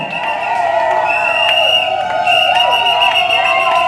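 Wedding guests cheer and call out as the couple enters a civil ceremony, a dense, steady crowd roar with bright whistle-like tones rising through it for several seconds.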